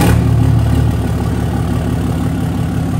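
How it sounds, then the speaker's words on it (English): A Cummins diesel engine in a lifted truck with new air intake parts drones loudly and steadily from inside the cab on a test drive, a deep continuous rumble with a slight rise in revs at the start. "Taking it on its first test drive now with the new air stuff we just put on the motor."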